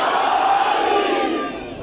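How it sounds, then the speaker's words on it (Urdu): A large crowd at a religious gathering roars the Nara-e-Haidari slogan in one loud sustained unison shout that fades slightly at the end. "بھائی سارے نعرے لگاؤ"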